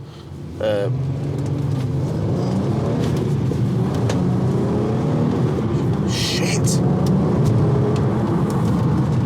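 A Volkswagen Golf R32 engine drones and builds while driving, a steady close rumble from inside the car, with someone talking over it and a few brief clicks and thuds.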